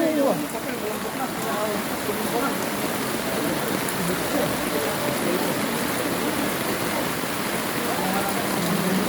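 Flash flood water rushing through a street in Bernardino St., a loud, steady, broadband roar of flowing water close by, continuous throughout with no breaks.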